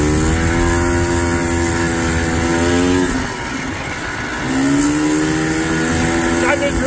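A 1986 Polaris Scrambler three-wheeler's engine drones loud and close while riding, its pitch easing down then climbing again as it slows and accelerates, with a rider talking over it.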